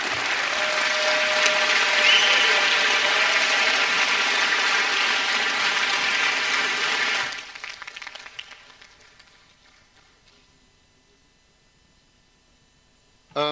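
Sustained, loud conference-hall applause as officers are elected by acclamation, a thick wash of many clapping hands lasting about seven seconds before dropping away to scattered claps and near silence.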